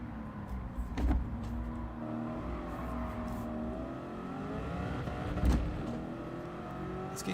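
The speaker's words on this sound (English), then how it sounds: "Ooh, this car is way throatier than my last one, that's for darn sure." A BMW's engine in Gran Turismo 7 drones steadily while the car accelerates, rising and falling in pitch with shifts, fairly quiet and continuous with no talk.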